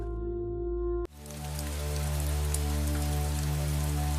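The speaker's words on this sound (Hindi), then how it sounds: "रात के अंधेरे में बारिश की आवाज तेज हो रही थी।" Rain falls at night on a small room with a broken roof, a steady, close hiss of drops that starts abruptly after a quiet musical tone and continues evenly beneath a sustained background hum.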